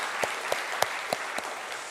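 A church congregation at a dedication service claps in unison, five or six sharp, evenly spaced claps over a soft bed of scattered clapping.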